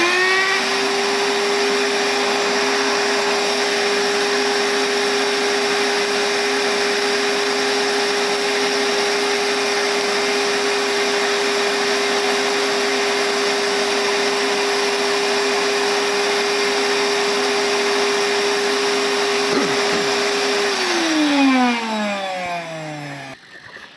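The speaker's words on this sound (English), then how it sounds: "This ballast vacuum basically makes a perfect job in short order." A small model railway ballast vacuum whines loudly and steadily at a constant pitch, then winds down with a falling tone as it switches off near the end.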